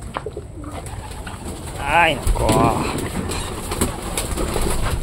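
A training pigeon coos in a couple of throaty, warbling bursts close by, while a person speaks briefly nearby amid background noise.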